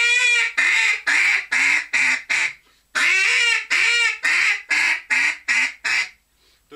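A duck quacks loudly in two runs of six to seven evenly spaced, nasal calls each, the first call of each run drawn out longer, close and clear with no other sounds.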